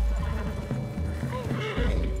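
A horse in Red Dead Redemption 2 neighs loudly, close up, over heavy clip-clopping hooves. The whinny and hoofbeats blend with game ambience during a tense outdoor scene.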